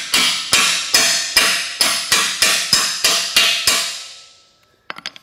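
Ten hard, evenly spaced metallic hammer blows ring out close by as a solid bushing is driven into a Nissan 240SX subframe, each strike with a short ringing decay, followed by a quick clatter at the end.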